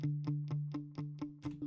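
A muted sunburst guitar plucks a short repeated note in a steady rhythm, about seven close, dry, even hits over a sustained low tone, used as a sample in an FL Studio production.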